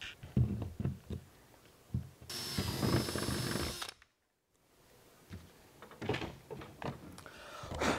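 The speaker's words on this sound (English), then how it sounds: "we're going to drill a hole just big enough for some of our 7/16 tubing to go through there" A drill boring a vent hole for 7/16 tubing through a livewell lid, a short whirring burst in the middle between scattered knocks and handling clatter, with a brief silent gap and more bumps afterward.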